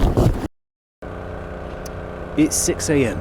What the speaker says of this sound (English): It's a hydraulic dredge.